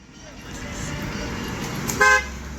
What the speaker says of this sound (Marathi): थांबा गाडी जाऊ द्या ती थांबा गाडी जाऊ द्या